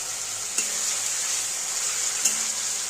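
Vegetables, potato and brinjal for a boroli fish curry, sauté in a pan with a steady close sizzle, two brief clinks of a spatula breaking through the even frying hiss.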